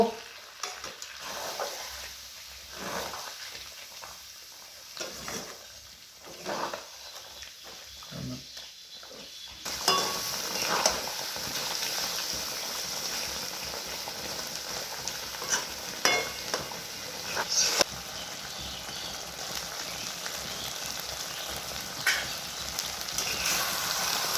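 Chicken fries with yogurt in a pan for chicken do-pyaza, starting with soft, uneven stirring scrapes and then rising into a loud, continuous sizzle with repeated spatula strokes, close and steady.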